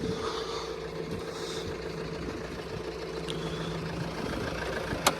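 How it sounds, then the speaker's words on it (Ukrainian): A Fiat Freemont 2.0 diesel engine idles in a steady low rumble, even throughout, with a faint background hum and a brief click near the end. "Двигунчик працює рівненько, чистенько, нічого не шородить"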